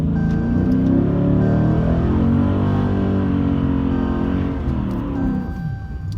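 A 2019 Dodge Scat Pack on Nitto drag radial tires holds a loud, sustained engine rev close by to heat its tires on the street, with a deep throbbing roar that shifts pitch slightly and eases near the end.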